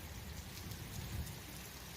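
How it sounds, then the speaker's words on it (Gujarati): Heavy rain falls during a storm in Amreli district, Gujarat. A dense, even wash of rainfall sits over a low rumble of thunder, fairly faint and brief. "અતિશય ગાજવીજ સાથે વીજળી ખૂબ પડે છે અને વરસાદ આવી રહ્યો છે"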